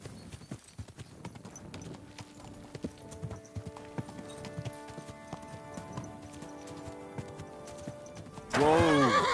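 Horse hooves clip-clop steadily in Kingdom Come: Deliverance 2, with a horse neighing loudly near the end, set over a busy game soundscape.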